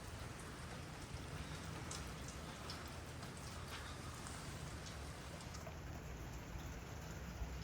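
Mixed rain and snow coming down in Lindenhurst, Long Island, a constant soft patter into gutters with scattered brighter drips, steady and fairly quiet throughout without talking.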